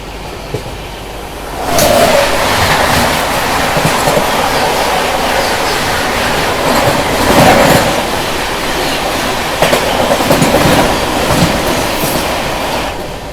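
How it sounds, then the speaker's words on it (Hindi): The UP Sampark Kranti express passes close by, heard from inside a moving train, as a loud, continuous rumble and clatter of wheels on rails after a quieter opening, with occasional louder rattles. "देखो अभी सामने से ये आ रही है यूपी संपर्क क्रांति, मानिकपुर से निजामुद्दीन जाने वाली।"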